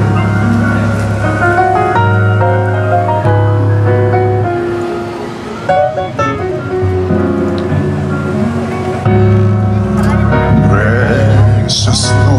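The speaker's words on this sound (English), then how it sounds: "This is Martin Luther King's favorite song, more music" The gospel song Precious Lord is performed live at an outdoor Martin Luther King Day gathering, with sustained tonal instruments playing loud and full throughout.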